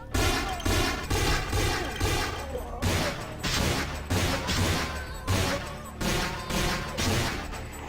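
Rapid, loud bursts of gunfire from a first-person shooter fired at close range, in repeated rhythmic volleys of sharp cracks over about eight seconds, with no clear speech.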